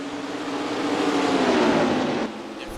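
IndyCar race cars in the NASCAR Racing 2003 simulator at Richmond, a loud sustained engine roar as cars run flat out, briefly swelling then dropping off near the end.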